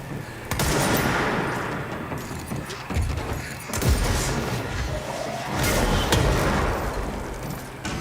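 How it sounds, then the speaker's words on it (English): Heavy gunfire and rocket blasts in the video game Control, dense rapid bursts of shots with booming impacts and whooshes running continuously and loud, with no talk over them. "I caught the rocket after it missed and then I shot him with it."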